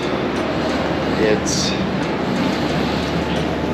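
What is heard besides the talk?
train arriving at Saigon train station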